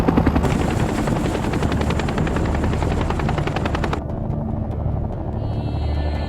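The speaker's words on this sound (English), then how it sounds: "Four miles outside of LZ X-Ray, the choppers drop to treetop level." Military helicopters flying low at treetop level over a Vietnam War landing zone, a loud, close, continuous rotor chop with rapid blade thumping throughout, no talk.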